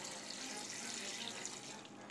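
Four cups of water poured into a cooking pot on a kitchen stove, a steady close splashing stream running without pause for the whole stretch, with no voices.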